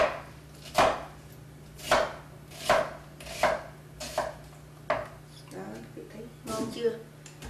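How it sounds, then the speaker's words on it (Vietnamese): A knife chops through an onion on a cutting board, cutting it into large dice: about eight sharp, evenly spaced thuds close up, with a steady low hum behind them. "cắt hạt lựu to, không cần nhỏ quý vị"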